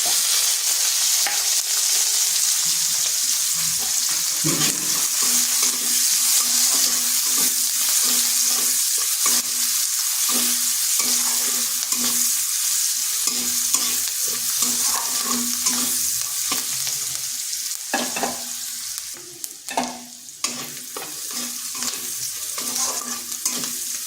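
Half an onion frying in oil with whole cumin and a split chilli, a strong continuous sizzle broken by repeated scraping and stirring strokes of a spatula against the pan, close and loud throughout.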